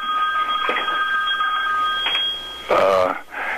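A telephone rings during a recorded interview, a steady electronic tone that sounds throughout, heard alongside voices.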